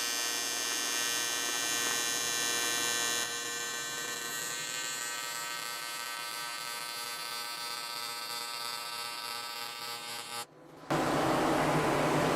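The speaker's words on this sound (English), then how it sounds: "and we're going to try to run some 3/8 aluminum." TIG welding on 3/8 inch aluminum with a PrimeWeld TIG 325: a steady, even electrical hum with dense harmonic buzz runs continuously, briefly cutting out near the end before a hissier restart, with no talk.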